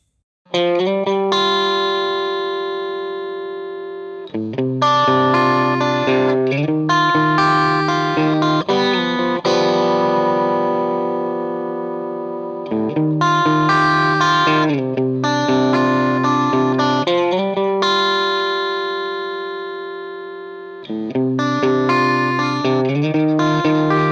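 Electric guitar plays the verse riff slowly, with effects-laden, chorus-tinged distorted chords struck in a repeating pattern, each ringing and decaying before the next strum, played alone and close.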